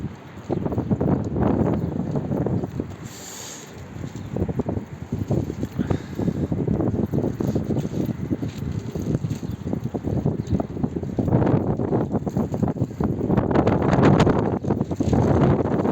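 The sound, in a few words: strong wind blowing outdoors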